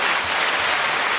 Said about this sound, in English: Get an applause for that.